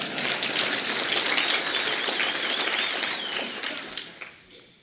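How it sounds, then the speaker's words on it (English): Conference audience applauding after lunch, a dense, even patter of many hands clapping, fairly loud and close, tapering off and fading out toward the end. "Can we get a round of applause for lunch?"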